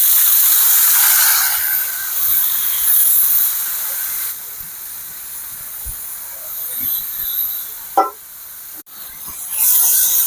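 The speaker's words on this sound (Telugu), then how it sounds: "ఈ ఆకుని కాస్త మగ్గేంత వరకు ఫ్రై చేసుకుందాం." Chopped fenugreek leaves sizzle and fry in a hot pan with shallot pieces, a loud steady hiss that eases slightly, broken by a sharp stir and clank of the pan.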